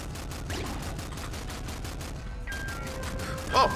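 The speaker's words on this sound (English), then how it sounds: "shooting down the generators" Rapid gunfire in the video game Nuclear Throne rattles in a fast, regular burst of shots while generators are shot down during a boss fight, with electronic game tones rising near the end.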